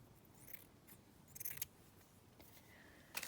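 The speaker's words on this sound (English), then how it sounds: "I'm just going to cut another little bit of that lace." Scissors snipping lace for a handmade journal cover, a few faint, brief cuts scattered through an otherwise quiet close-up moment.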